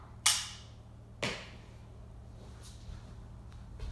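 Homemade web shooter fired into the air gives two sharp, snapping pops about a second apart, each trailing off in a short hiss, followed by faint rustling.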